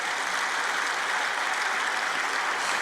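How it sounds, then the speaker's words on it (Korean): A large congregation at a Korean church prayer service marking the March 1st Independence Movement Day applauds warmly, a dense, steady wash of clapping that fills the hall, with no voices over it. "우리 여기 오신 여자들 분을 위해서 한번 뜨거운 박수로 격려해 주시기 바랍니다"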